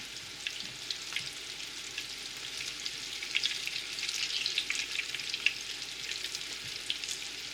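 Wild turkey nuggets fry in oil held at 350 degrees, giving a steady, fairly quiet bubbling sizzle with scattered small pops and a slight swell partway through.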